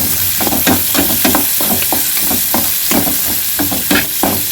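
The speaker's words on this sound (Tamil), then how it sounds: "வெங்காயம் போட்டு அதை நல்லா வதக்கலாம்." Onions sautéing in a pan after fenugreek seeds have been fried, a steady loud sizzle with repeated scraping stirs of a spoon at an even rhythm, close up with no talking.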